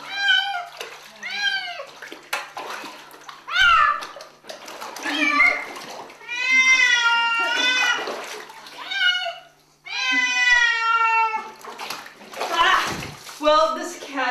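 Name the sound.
cat meowing while being washed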